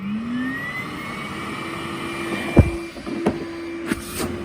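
A steady high whine of a Henry cordless vacuum cleaner running on high power close by, with a few sharp knocks and clicks against it.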